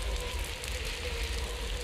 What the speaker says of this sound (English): the rain is making for some really cool shots